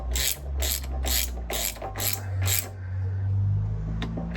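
A ratchet wrench tightens an exhaust manifold bolt with a spring washer on a classic Fiat 500: six crisp, evenly spaced clicking strokes close by, then a pause and a faint metallic tap, with a low hum underneath.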